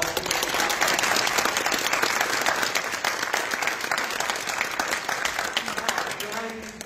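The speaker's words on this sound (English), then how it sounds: "please give these guys a round of applause" A banquet room bursts into sustained applause for hockey alumni and the team's goalie coach, with dense, even clapping that holds steady and tapers slightly at the end.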